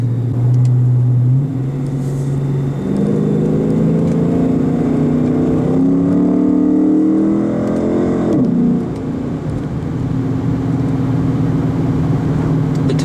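A car driving quickly through turns on a back road while testing Continental ExtremeContact DW tires, its engine droning loud and close with pitch rising and falling as it accelerates, then easing off before pulling again.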